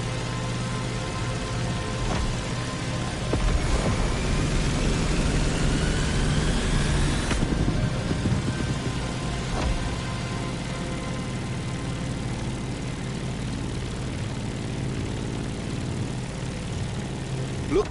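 Aircraft engine droning steadily as a plane climbs in flight, near Molokai; a loud, continuous propeller-like hum with tonal bands fills the whole stretch, swelling slightly midway, with no talk.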